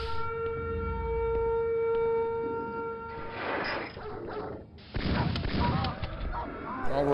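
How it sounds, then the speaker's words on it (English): A siren sounds on a custom Quake map, The Lima Project, in a PC shooter. A steady, droning alarm tone plays for a few seconds before being swamped by loud, chaotic gameplay noise. "That's when I heard the siren, so it was this map."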